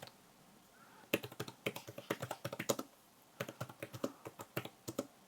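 Typing on a Nillkin Bluetooth keyboard case for an iPad Pro: quick, close, crisp key clicks in two bursts with a short pause between, fairly quiet, no voices.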